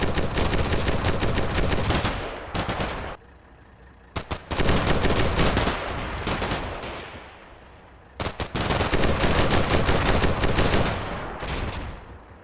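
Dense bursts of simulated gunfire from the video game Combat Mission Shock Force 2, rapid machine-gun volleys rattling in long stretches, broken by brief gaps of quiet, loud and continuous with no talk.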